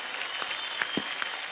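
Audience applause at an Indian Idol singing show, a steady dense wash of clapping at moderate level with a few sharper claps standing out.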